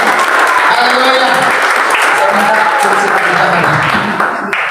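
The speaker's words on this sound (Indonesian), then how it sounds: "Sekali lagi tepuk tangan buat gereja teman." A church congregation at a worship service held in a Jakarta hotel applauds loudly and continuously, with voices calling out and singing over the clapping.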